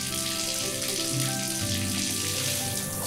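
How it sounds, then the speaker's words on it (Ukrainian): Tap water runs steadily into a sink, a continuous gushing splash with a slight rising fill as the basin collects water. "Вода лється і наповнює раковину."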